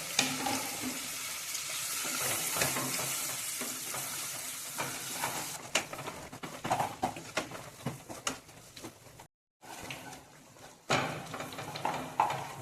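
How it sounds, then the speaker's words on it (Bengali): Spice paste and chopped tomatoes sauté in a pan for a Bengali moong dal with fish head, giving a steady sizzle with stirring scrapes that thins out, briefly cuts to silence, then returns; no talking. "তারপর খুব ভালো করে মশলাটা আমি কষাতে থাকবো।"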